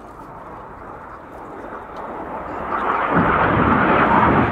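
Red Arrows jets fly the Tempest display manoeuvre at the RIAT 2025 airshow, a broad, loud jet roar that swells sharply about two-thirds through as the formation passes overhead.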